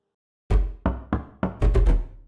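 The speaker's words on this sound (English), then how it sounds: "Up here, it's unpitched percussion." Six hollow, woody knocks on the body of a double bass, four spaced out and then two quick ones in a tight cluster, close and resonant with no voices.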